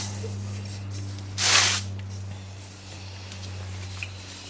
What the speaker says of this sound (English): spraying the very bottom 17mm fork pass-through bolt for the lower control arm